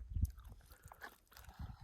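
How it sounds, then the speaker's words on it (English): Crunchy fried okra with chicken bitten and chewed up close on a backpacking trip at Cottonwood Lakes, California, with a sharp crunch at the start followed by softer, wetter chewing. "The okra has a really good crunch to it."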